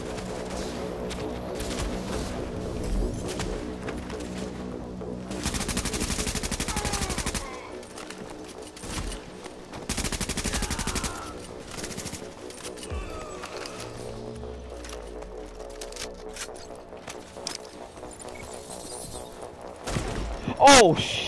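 Automatic gunfire in Tom Clancy's The Division video game, sustained rapid bursts with louder stretches mixed with game music and effects, close and steady, while a voice talks over the action.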